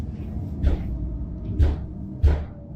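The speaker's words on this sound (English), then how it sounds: "This thing's always closing doors." Doors slam shut in a dim, eerie building, three heavy booming thuds spaced about a second apart over a low rumbling background.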